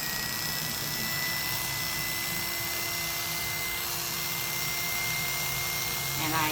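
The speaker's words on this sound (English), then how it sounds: "I'm going to shave off this extra little bit of hair." Electric clippers shave a Yorkie's coat, giving a continuous high-pitched motor whine that holds steady, with faint voices present under it.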